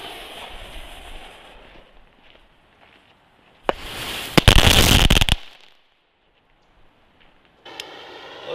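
Black Cat ground mine firework set off outdoors, one sharp burst followed by a dense, loud crackling spray lasting under two seconds, then quiet with faint rustling.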